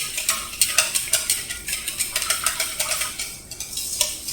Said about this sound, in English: So we're whisking the wet ingredients all together